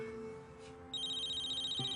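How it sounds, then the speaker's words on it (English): A cell phone rings with a steady electronic tone that starts partway through and continues, fairly close and clear over a quiet indoor background. "My cell's ringing."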